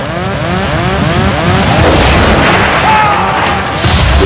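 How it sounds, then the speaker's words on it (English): A loud, sustained blast of broadband roar as the cockpit windscreen of British Airways Flight 5390 (1990) blows out fills the whole clip, with a rumbling low end, no quiet moments, and rushing wind. "With a huge explosion, the captain's windscreen blows out into the sky."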